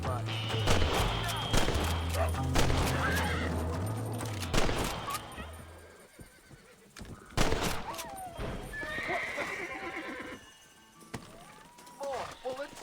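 Red Dead Redemption gameplay, with sharp bursts of gunfire mixed among horse neighs and hoof clatter, loud and close, while someone talks excitedly over the action.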